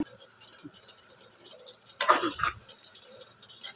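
A spoon stirs salt into a tamarind-leaf and dried prawn curry in a pot, giving a short burst of scraping and stirring about halfway through, with quiet kitchen background before and after.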